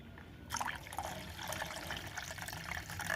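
A little water poured into milk with rice in a pot for rice kheer, a soft steady trickle beginning after a brief quiet moment and running on close by with no talk.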